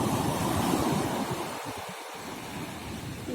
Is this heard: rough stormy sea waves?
yes